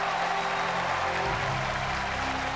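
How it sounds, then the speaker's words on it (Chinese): An audience at a televised awards ceremony applauds, with dense, sustained clapping filling the whole moment at a steady level under a faint tonal background. "接下来邀请所有的朋友献出你们最真诚的掌声给这位老师"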